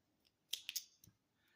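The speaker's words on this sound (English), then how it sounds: "And I'm going to cut that off." Scissors snip through knitting yarn from a loom-knitted piece: a couple of quick, crisp metallic clicks close by, short and quiet against near silence.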